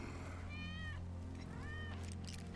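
A cat in the video game Final Fantasy VII Remake meows twice, faint rising-and-falling cries over a steady low background hum.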